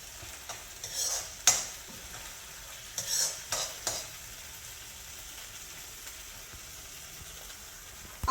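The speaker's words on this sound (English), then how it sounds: "And that's just going to go ahead and saute." Ginger and garlic sauté in a pan under a gentle sizzle, broken by several sharp scraping stirs of a utensil against the pan, close by and without talking.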